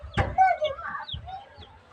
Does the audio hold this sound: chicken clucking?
yes